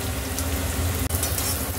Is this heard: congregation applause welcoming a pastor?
no